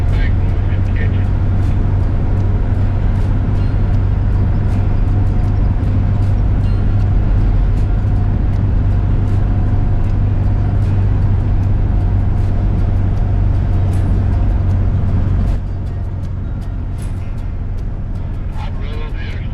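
An old RV drives along a road with a continuous, loud, low engine and road rumble mixed with wind noise, easing slightly near the end, and someone talking over it.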